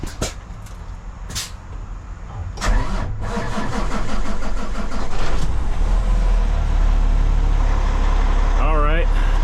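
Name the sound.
truck engine starting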